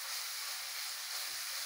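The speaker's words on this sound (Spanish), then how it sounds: "ahorita ya que la estoy friendo, se dan cuenta, se separa bien" Longaniza sausage fries in a pan with a steady, even sizzling hiss, close and continuous, with no voices over it.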